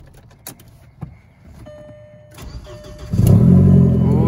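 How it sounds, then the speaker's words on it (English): A budget 2000s VW Passat B5 with the 1.8-litre turbo four-cylinder is started. The starter cranks briefly, then the engine catches into a loud, steady idle that fills the last second or so. "I can show you the car still starts."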